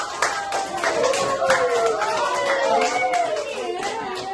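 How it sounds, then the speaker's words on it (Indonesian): A classroom of students claps for a student group after its presentation, steady close-up hand clapping throughout with faint voices mixed in. "Terima kasih kelompok satu. Tepuk tangan dulu."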